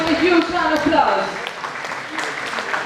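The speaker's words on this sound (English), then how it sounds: "Let's welcome him with a huge round of applause." At a regional deafblind conference in Asia, an audience applauds as a speaker is welcomed to the stage, moderate clapping under a loud voice at the start that continues more softly for a few seconds.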